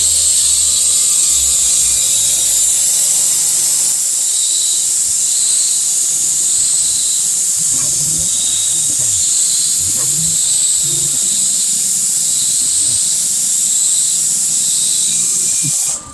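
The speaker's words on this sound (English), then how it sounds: "Throwing the chamfer on op number 2." A PM-30MV CNC mill cutting a chamfer on a knife blade, a steady high cutting hiss running throughout with a faint repeating tone and low mechanical rumbles beneath, ending abruptly.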